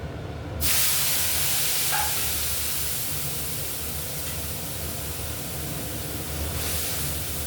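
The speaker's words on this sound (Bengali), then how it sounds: "এই দেখো মশলাটা কষিয়ে নিচ্ছি" Spice paste of onion, ginger, cumin, coriander, chilli and turmeric mixed with a little water sizzles and fries steadily in a pan while cooking rohu fish curry with potatoes, a loud continuous hiss throughout.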